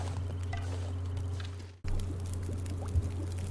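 A pot of water boils over a fire in The Long Dark, heard as a steady low bubbling hum with a faint texture above it. The sound cuts out briefly midway, then resumes at the same level.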